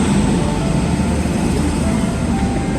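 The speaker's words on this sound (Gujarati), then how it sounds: "હવે આવી ગઈ છે આપણી ટ્રેન" A train pulling into Junagadh railway station, a loud, continuous low rumble and broadband roar of the passing cars with no distinct horn or talking.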